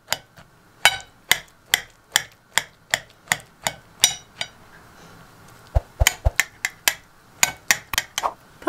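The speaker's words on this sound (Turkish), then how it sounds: "Soyduğum patlıcanları bu şekilde bıçakla ince ince doğrayalım." A knife chops peeled eggplant into thin slices on a cutting board. Crisp, evenly spaced chops sound up close, with a brief pause before a quicker, slightly irregular run of cuts.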